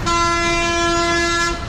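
A loud air horn on an MSRTC BS6 Lalpari bus travelling from Hyderabad to Nagpur sounds one steady, sustained blast of about a second and a half over the rumble of the road.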